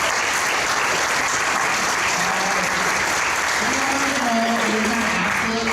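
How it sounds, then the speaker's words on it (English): An audience at an informational meeting breaks into sustained applause, a dense, even wash of clapping filling the room throughout, with a few voices faintly mixed in. "If you could please just give them a round of applause."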